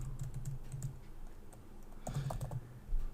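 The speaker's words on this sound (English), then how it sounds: "again type in my name" Quiet typing on a computer keyboard, two short bursts of rapid soft key clicks separated by a brief pause, close and faint against light room noise.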